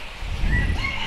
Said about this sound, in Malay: Dengar ayam berkokok.